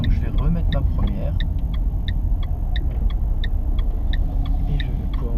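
A car takes an extremely tight turn in first gear on a road near Gex. A low engine rumble fills the cabin while the turn signal ticks steadily and evenly above it.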